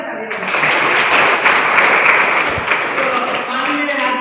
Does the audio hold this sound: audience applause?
yes